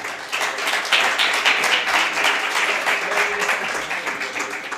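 An audience at a startup pitch competition breaks into applause, a dense burst of many hands clapping that fills the room and continues steadily for several seconds.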